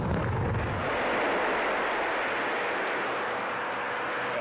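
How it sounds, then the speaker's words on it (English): Explosives detonate in a New Zealand quarry, a sustained broadband roar of blasting rumble that starts with a low thump and rolls on loudly for several seconds, with no voices. "So now what we'll do is press both buttons, keep that one pressed down and press that one down, and the shot will go off."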